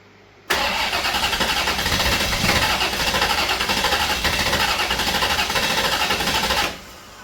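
An old engine fitted with a decades-old Holley 670 carburettor fires up abruptly and settles into a loud, steady, rough idle that runs close by for several seconds before cutting off.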